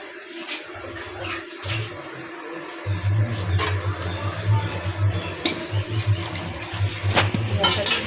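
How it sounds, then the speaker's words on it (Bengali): Water is poured into a pan of rohu fish curry cooked with coriander paste, producing a splashing, hissing pour that starts after a few quiet seconds and continues unevenly, with scattered clinks and brief knocks close by. "এবার একটু জল দিয়ে দেবো"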